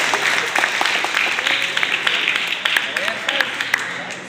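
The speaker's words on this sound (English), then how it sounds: "Clap." Audience at an institute event claps steadily throughout, a dense patter of applause with some voices mixed in.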